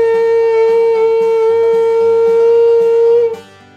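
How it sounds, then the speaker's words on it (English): A shofar blown for Rosh Hashanah sounds one long, loud, unbroken tekiya blast that holds a steady pitch for over three seconds, then cuts off, with a faint rhythmic backing underneath. "It's a shofar, and we blow the shofar on Rosh Hashanah by day"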